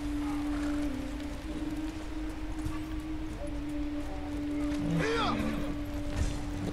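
A horse in the Ghost of Tsushima video game moves with soft clip-clop hoofbeats, with a steady game music drone and brief voice-like sounds over it.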